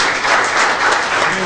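An audience at a recognition ceremony for local athletes gives applause, a dense, loud burst of clapping from a crowd, steady through the short stretch with no talk.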